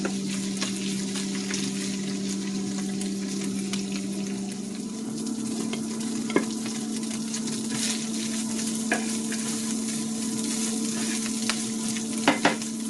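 Ground taco meat browns and is broken up in a hot pan, a steady close sizzle with a faint hum and occasional small scrapes and clicks of the utensil, no talking.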